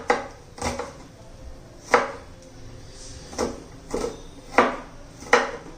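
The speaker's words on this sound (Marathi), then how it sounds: "आपला कांदा चिरून झालेला आहे" Knife chopping onion on a board in a home kitchen, about six distinct sharp chops at a slow, fairly even rhythm, close and clear, with no talking.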